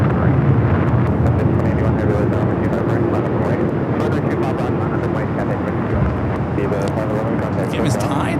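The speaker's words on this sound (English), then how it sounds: "number 2 for takeoff on the south side, Cathay Cargo, flight 2081, heading to Anchorage, 747-400 freighter" A Cathay Cargo 747-400 freighter takes off from LAX bound for Anchorage, a loud, continuous broadband jet roar filling the whole stretch without letup.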